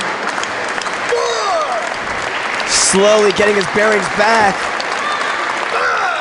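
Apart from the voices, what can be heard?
wrestling crowd applauding and cheering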